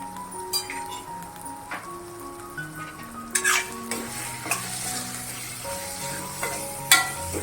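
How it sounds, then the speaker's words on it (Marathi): Spices sautéing in a pan for a Maharashtrian broad beans (val) gravy, with a spoon stirring and clinking against the metal; a steady low sizzle runs beneath scattered scrapes and taps, close and fairly quiet. "सगळे मसाले परतून घ्यायचे आहेत आपल्याला"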